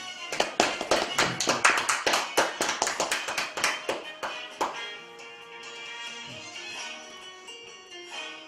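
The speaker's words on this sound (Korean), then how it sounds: "박수 한번 주세요" An audience at a Buddhist temple event with a guest singer claps in a brisk, fairly close burst of individual hand claps that fades out after about five seconds, giving way to sustained tonal music.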